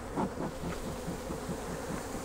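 Honeybees buzzing around an agitated, defensive hive, heard as a continuous close droning hum with pulsing swells as bees fly past, and no voices.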